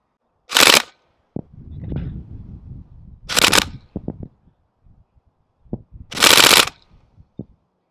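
An airsoft recoil rifle fires three short, sharp bursts outdoors, spaced a few seconds apart, with quieter clicks and rustling between them.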